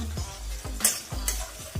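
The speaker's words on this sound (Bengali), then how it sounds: "আমি শুধু এখানে গাজর আর পেঁয়াজটা ইউজ করব এটা হালকা ভাজা ভাজা হবে" Carrots and onions frying lightly in a pan for savoury semolina halwa, a soft sizzle broken by several rhythmic stirring scrapes and two brighter hissing bursts, with no voices.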